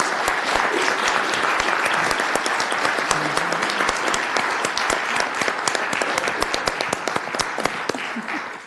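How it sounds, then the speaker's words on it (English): An audience at a city council meeting applauds with a long, dense burst of clapping, sharp individual claps standing out near and loud throughout, fading slightly at the end. "let's give them another big round of applause"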